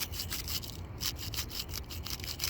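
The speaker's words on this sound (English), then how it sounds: "You want to take a wire brush and scrape all of it off." A wire brush scraping dried gasket maker off differential cover bolts on a 2006 Dodge Ram 1500, rapid rhythmic raspy strokes, close and continuous.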